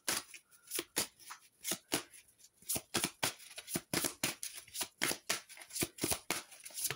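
Oracle cards are shuffled during a tarot reading, giving a steady run of crisp riffling flicks and slaps repeating about every third of a second, close and clear with no voice over them.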